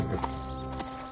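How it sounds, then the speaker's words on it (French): Cartoon horses on a farm clip-clop along with hollow hoof beats, joined by a brief neigh, all fairly close and set against a busy animated soundtrack. "Scoop joue avec les chevaux."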